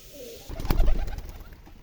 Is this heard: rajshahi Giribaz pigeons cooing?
yes